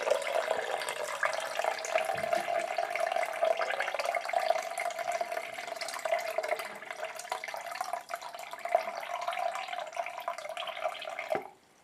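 Liquid pours steadily into a container to refill it during a drinking challenge with beetroot, pickle and sausage water, a continuous trickling gurgle lasting about eleven seconds before stopping abruptly.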